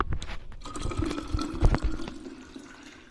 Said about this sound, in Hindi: तो चलो ज़रा 1-2 बोतल पानी की भर के रख देते हैं।